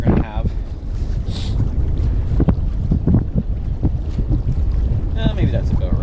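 Loud gusting wind buffeting a sailboat on Lake Ontario, steady rumble with flapping and rigging clatter, close and continuous with no voices.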